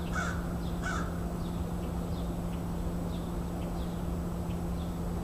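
Two harsh, raspy crow-like caws ring out at the start against a steady background hum, followed by faint distant calls.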